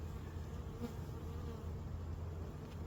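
Honeybees swarm around an opened hive, a dense, steady buzzing that fills the whole stretch without a break, close and even in loudness.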